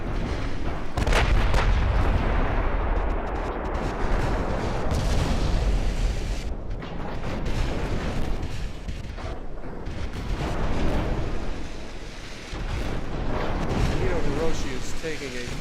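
Warship naval gunfire and shell hits in Ultimate Admiral Dreadnoughts roar almost continuously, with dense overlapping booms and impacts close and loud, while a voice talks over the barrage.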